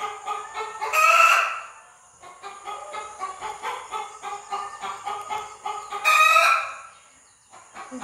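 Chickens on a Ghana poultry farm cluck in a steady, rapid stream nearby, broken twice by a loud rooster crow, one near the start and another later.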